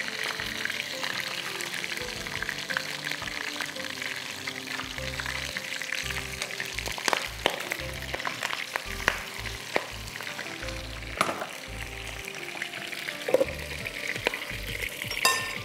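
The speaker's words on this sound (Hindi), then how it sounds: "अच्छी तरह गोश्त को सियर करिएगा" Meat searing in hot oil in a pan for Ruz Bukhari, an Arabic rice dish, with a loud, steady close-up sizzle and crackle throughout, punctuated by irregular pops and stirring scrapes, and no talking.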